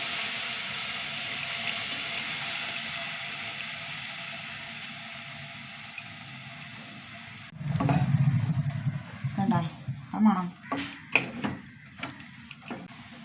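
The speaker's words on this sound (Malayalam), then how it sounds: "ഇതിനകത്ത് പുളിവെള്ളം ഒഴിച്ച് കൊടുക്കാം കേട്ടോ ഒരു നാരങ്ങ വലുപ്പത്തിൽ പുളിവെള്ളം" Tamarind water poured into a pot of curry, a steady liquid pouring and splashing for several seconds, followed by a few louder stirring clatters and splashes nearby.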